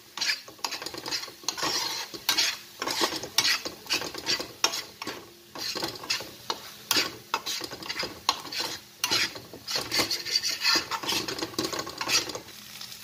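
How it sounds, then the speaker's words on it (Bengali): Spice masala for a surmai fish curry stirred in a pan, quick repeated scraping strokes of a spatula over a soft sizzle, close and rhythmic, no talk. "মশলাটা 2 মিনিট ভালো করে নাড়াচাড়া করে"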